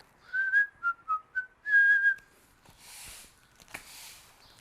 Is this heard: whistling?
yes